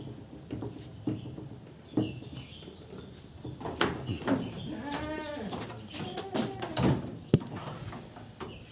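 Goats in a pen on a farm bleat several times with wavering cries, close by, amid scattered knocks, rustling and other farmyard noises.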